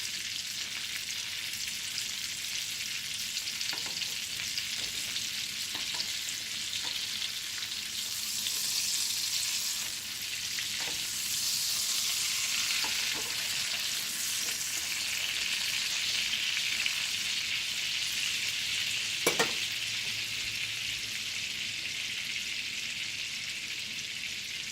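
Pork chops sear in a hot pan with a steady, bright sizzle that runs unbroken throughout, with a few sharp spatters and pops rising above it and no talking.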